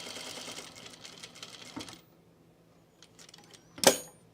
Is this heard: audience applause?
no